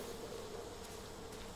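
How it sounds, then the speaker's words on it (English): Bees buzz steadily around a bee's nest in the video game Far Cry 5, a faint, continuous insect drone with no talking over it. "Oh, this is a bee's nest?"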